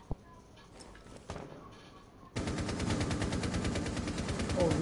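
Gunfire in Rainbow Six Siege: a few isolated shots crack out early, then a sustained, loud automatic burst erupts and rattles on steadily to the end.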